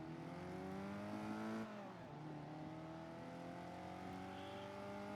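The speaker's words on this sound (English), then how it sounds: "It's a 71 Mustang fastback, and it drives like a beast." Modded 1971 Ford Mustang Fastback engine in Forza Horizon 3, a loud revving drone that climbs through the gears, dips at a shift, then pulls steadily again with no talking.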